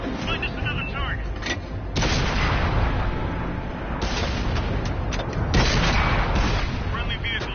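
Tank cannon fire and explosions in the video game World of Tanks, heavy booms and rumbling impacts recurring over a loud, constant battle din, with crew voice callouts heard over them.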